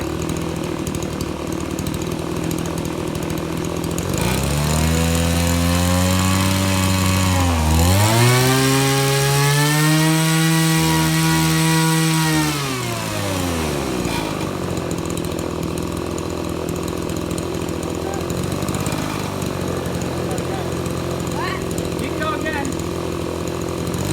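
A 25cc weedeater engine fitted with a propeller runs close and loud, rising sharply to a high-pitched rev, holding, then dropping back to idle, with talk in the background.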